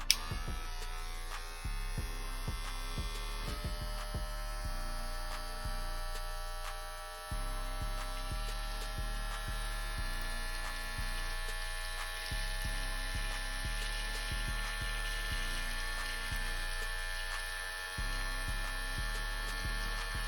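Electric hair clippers run while being cleaned with oil, giving a steady, close mains-pitched buzz with rich overtones and a few light clicks in the first seconds, with no talking.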